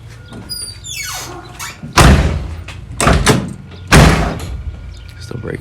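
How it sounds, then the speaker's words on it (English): A Camaro door shuts three times with heavy, solid thumps spaced about a second apart, close by, with a soft swish before the first; new weather stripping is still breaking in. "I realized when I closed the door,"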